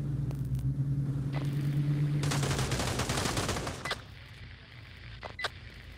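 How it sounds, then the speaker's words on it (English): Gunfire crackles in the video game Pavlov, with rapid automatic bursts over a low rumble that build to a dense volley before thinning to a few scattered shots. "What the heck are you shooting at?"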